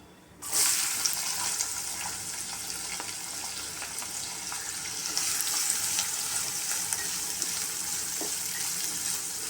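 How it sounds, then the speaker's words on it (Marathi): Finely chopped onion sizzles in hot oil with cumin seeds and asafoetida for aloo dum gravy, a steady broadband hiss that starts abruptly and holds loud and close throughout, with occasional faint stirring clicks and no talking. "याच तेलामध्ये मी 1 चमचा जिरं टाकते, थोडं हिंग टाकते, बारीक चिरून घेतलेला कांदा आपण हे परतून घेऊया।"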